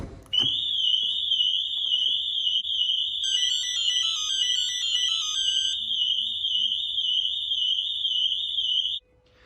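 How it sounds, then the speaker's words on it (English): A 2008 Range Rover's aftermarket alarm wails continuously at a high pitch, with brief extra beeping tones layered over it, then cuts off abruptly. "If any of the alarm zones are activated, say for example opening the door,"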